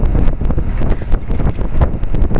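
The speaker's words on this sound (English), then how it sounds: "I assume it's a GE 2-speed fan motor, because the fan definitely does" Outdoor unit of a 1998 Trane XL1800 5-ton heat pump in cool mode, its two-speed fan motor running with loud, close, buffeting rush of air and low rumble, pulsing unevenly.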